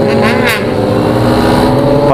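Heavy motorcycle of over 200 kg revving hard during a wheelie, a loud, close, sustained engine roar with rising pitch, with voices partly under it.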